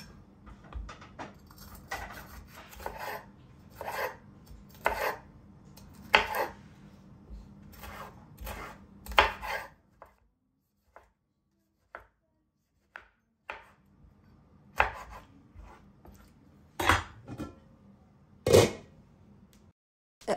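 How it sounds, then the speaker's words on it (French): A knife chopping tomatoes and bell peppers on a cutting board, irregular knocks in short bursts with a pause midway, close and clear over a low background hum. "Ensuite, je coupe les tomates et les poivrons."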